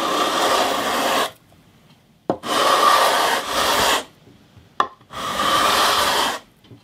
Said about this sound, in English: So now I've got this 320 grit leveling beam. I'm just going to run over it